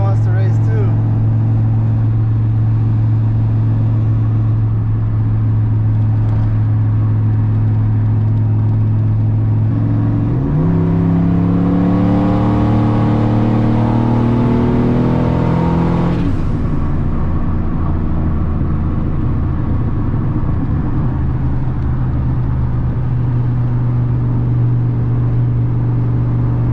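A turbocharged Chevrolet Silverado truck rumbles at idle, then revs hard and accelerates in a rising surge of engine roar before settling back into a low drone, with people talking over it.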